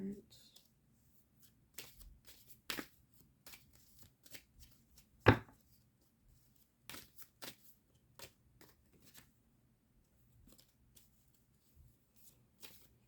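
Oracle cards being shuffled by hand, soft papery riffles and taps in scattered short bursts, close and quiet, with one sharper snap midway and a calm background.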